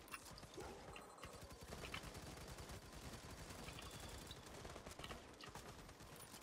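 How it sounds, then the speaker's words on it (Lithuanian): An engineer's automated cannon turret in the Firefall video game fires a dense, rapid stream of gunshots at enemies, a steady loud rattling barrage that continues throughout without speech. "Patranka inžinierio, kuris šaudo į visus priešus."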